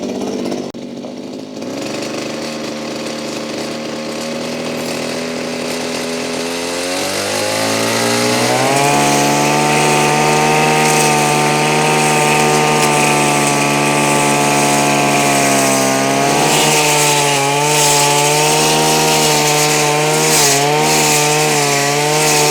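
A STIHL FS 3001 petrol brush cutter engine starts from a low idle and climbs to a loud, steady, high buzzing whine that holds close and continuous with slight wavering in pitch.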